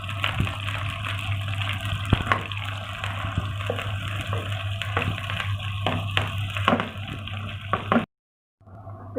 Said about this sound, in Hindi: हम इसमें प्याज डाल के इसको फ्राई करेंगे।